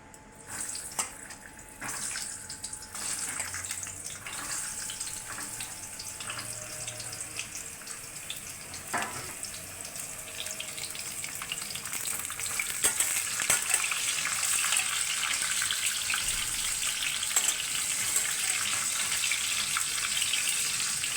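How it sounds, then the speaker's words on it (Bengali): Salted, turmeric-coated pointed gourds (potol) fry in hot oil in a wok with a close, continuous sizzling hiss that grows louder and denser in the second half, with occasional soft clinks. "আর পটলগুলোর মধ্যে নুন হলুদ মাখিয়ে নিয়েছি, এরা হালকা করে ভেজে নেবে।"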